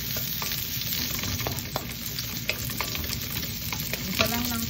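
Onion sautéing in hot cooking oil for Filipino ginisang upo with sardines: a dense, steady sizzle with crackles and occasional stirring scrapes, close and continuous with no talking.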